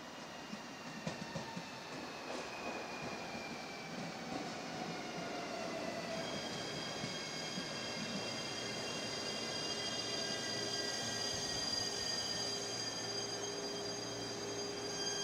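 A local train pulls out of a small seaside station on a Japanese rail line, steady rolling rumble with wheel squeal and rising whine that grows louder as it departs, no voices.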